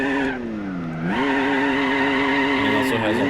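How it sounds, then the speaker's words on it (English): Nissan GT-R engine sound swapped into a Honda NSX in Gran Turismo 4, a loud revving engine with rising and falling harmonic tones, a brief dip near the start, and light tire squeal toward the end. "as you can also hear, the engine audio has been changed to the GTR engine audio as it should"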